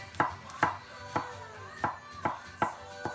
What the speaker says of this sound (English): I'm just fine chopping my garlic